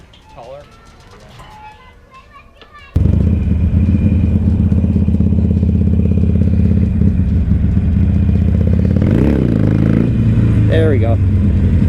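A used Harley-Davidson Iron 883 Sportster motorcycle is started after faint background sounds, then its loud, close V-twin engine idles and rumbles steadily with a few throttle blips, while a person talks over it.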